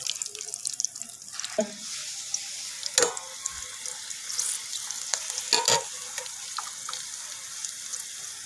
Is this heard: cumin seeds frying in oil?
yes